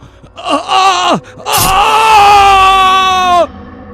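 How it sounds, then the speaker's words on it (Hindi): A man groans and then cries out in pain in a horror audio drama, two drawn-out voiced wails, the second long and strained before breaking off, loud and close with no other sounds. "कमरे की लाइट अपने आप बुझ गई और फादर डिकोना दर्द से कराह उठा।"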